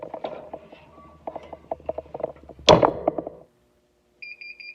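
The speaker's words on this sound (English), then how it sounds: "And that is my alarm to let me know." A heat press timer goes off near the end with a short run of repeated electronic beeps, clear and fairly loud, after a stretch of clicking and clattering handling noises and one sharp thump.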